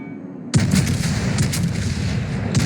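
Naval artillery firing in the World of Warships game: a sudden loud boom cuts in and rolls into a sustained rumbling barrage with further thuds, heard up close without speech.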